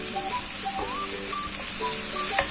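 Mushrooms and baby tomatoes fry together in a pan with a steady, dense sizzle and hiss, close and continuous, with a few faint higher tones over it.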